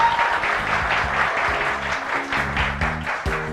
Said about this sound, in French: applaudissez-vous très fort s'il vous plaît.